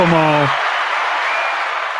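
Canned studio audience applause, a steady dense clapping wash that rises right after a brief voice and continues evenly to the end.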